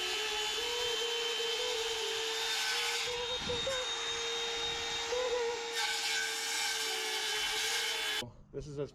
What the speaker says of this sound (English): So we have to finish that off with a handsaw,